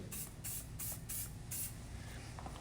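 Hair spray, such as a milk_shake or no inhibition product, goes on over whipped hair color in about five short, sharp hissing bursts with a steady rhythm, up close, followed by a quieter trailing spritz.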